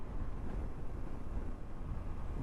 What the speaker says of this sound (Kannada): ಹಿಂಗಾಗಿ ಸಿಕ್ಕಾಪಟ್ಟಿ ಗಾಳಿ ಅದ. ಅಪೋಸಿಟ್ ಗಾಳಿ ಬರತ್ತದ ಭಾಳ